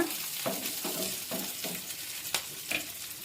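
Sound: curry leaves spluttering and frying in oil

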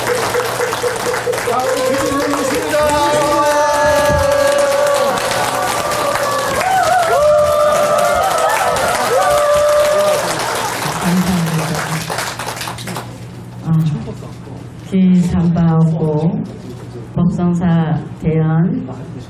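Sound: audience applause at Buddhist temple ceremony

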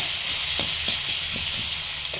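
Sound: chopped onion frying in mustard oil

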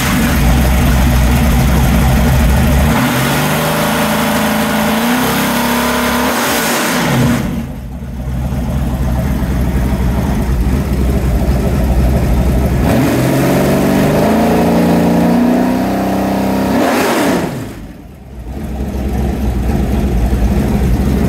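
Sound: 427 Ford V8 engine, 540 horsepower, running

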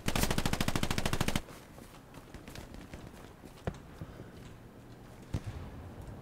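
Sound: machine gun fire in the video game Hell Let Loose

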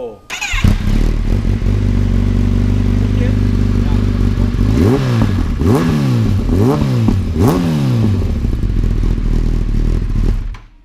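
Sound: Kawasaki ZX10R motorcycle engine running

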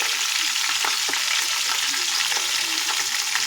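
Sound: Everest Kashmiri red chili powder frying for chicken

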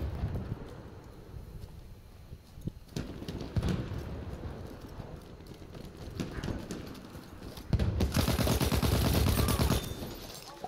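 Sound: gunfire, bullets snapping past in Battlefield 1 video game

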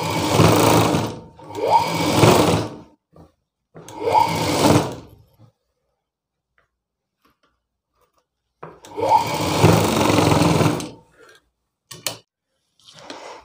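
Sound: sewing machine stitching the side seam of a blouse

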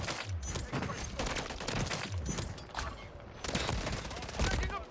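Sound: gunfire in video game Modern Warfare 3

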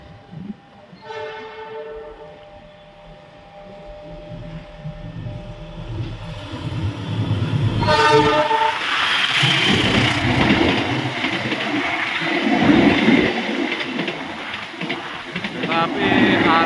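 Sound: CC206 locomotive train approaching and passing, horn

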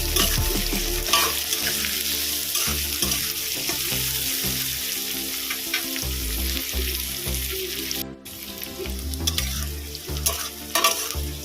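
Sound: chopped onion frying in a pan

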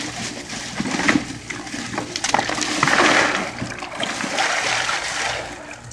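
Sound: ice being put into a bucket of water

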